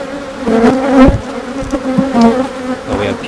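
Honey bees buzz steadily around an open hive during an inspection of brood frames, a dense, close droning hum with wingbeat tones swelling and fading as individual bees pass near.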